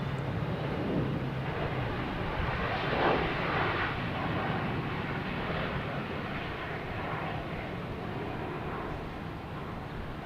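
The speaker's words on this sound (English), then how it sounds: "Next taking off is United Airlines, heading to Denver. 737-800." A United Airlines Boeing 737-800 jet takes off from Boston Logan Airport, a continuous broad engine roar heard at a moderate distance, steady and fairly loud with no talk over it.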